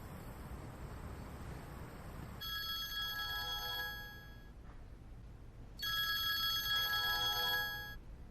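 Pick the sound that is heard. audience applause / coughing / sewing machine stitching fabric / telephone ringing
telephone ringing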